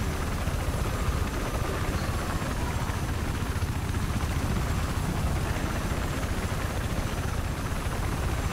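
Continuous helicopter rotor and engine drone in the video game Battlefield 4, loud and steady throughout, with a dense broadband roar and no voices.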